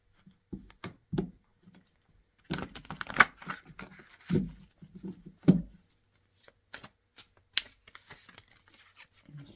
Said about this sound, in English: A bunch of cards flying out there.